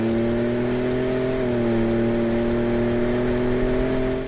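A 2015-2017 Ford F150 with the 3.5L EcoBoost V6 and a Borla Sport cat-back exhaust holds a steady, loud, deep exhaust drone up close, its pitch dipping slightly partway through, with no one talking.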